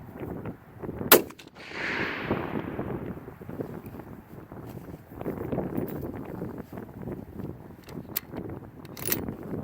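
A .30 caliber bolt-action rifle fitted with a JP Industries recoil eliminator fires one loud, sharp shot outdoors. Brief echoing follows, then steady wind noise buffets the microphone, and a few faint clicks and knocks come later.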